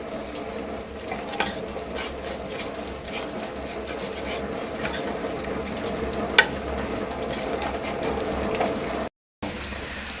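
Onions fry and brown in a pan for a pulao, giving a steady, moderate sizzle with scattered crackles and occasional scraping stirs, no voices.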